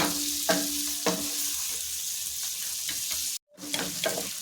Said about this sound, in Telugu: ఆలుగడ్డలు వేసుకుందాము. ఒక 2 నిమిషాలు కొంచెం మగ్గనివ్వాలి.